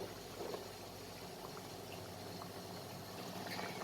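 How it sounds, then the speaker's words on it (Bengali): Chhana dalna kofta curry bubbles in a pan over a high gas flame, a soft steady simmering hiss with faint liquid gurgles, quiet and continuous with no talking. "কোপ্তাগুলোকে দিয়ে গ্যাসের ফ্লেমটাকে হাই করে আমি জাস্ট 2 মিনিট একটু ফুটিয়ে নেব।"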